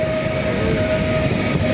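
A freight train rolls onto a siding at Gliwice railway station, a loud steady rumble with a sustained tonal whine throughout, close by and without speech.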